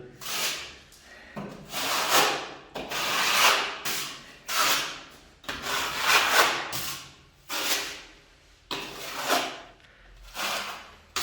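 A sponge rubbed over freshly repaired wall plaster on a damp-damaged wall, giving repeated rough swishing strokes in a steady rhythm, close and moderately loud, with no talk.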